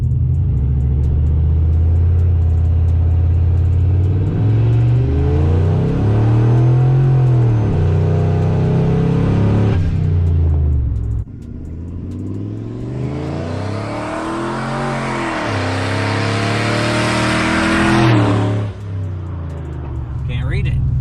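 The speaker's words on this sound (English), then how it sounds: "four-wheel drive launch" A single-turbo Ford F150 pickup in four-wheel drive launches hard from 0 to 60, its engine roaring loudly up through rising revs with a shift, then pulling again, close and continuous, with people talking inside.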